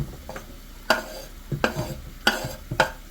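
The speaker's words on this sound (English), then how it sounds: "We're going to add in my onions so we can start cooking those down as well." Onions cooking down in a pan with sausage for a spicy sausage rigatoni, heard as a steady close sizzle broken by four sharp stirring scrapes at a regular pace, with no talking.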